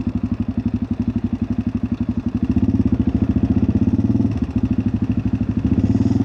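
A Suzuki DR-Z motorcycle engine runs close by with a fast, even thumping pulse, swelling slightly in the middle as it is revved a little before dropping back to a steady beat.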